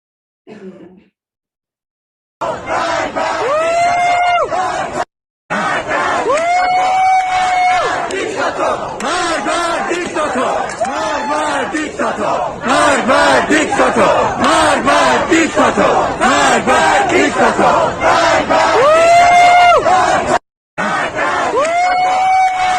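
A loud crowd roars and cheers continuously, with shouts and chanting voices rising over the din, broken by a couple of brief silent gaps.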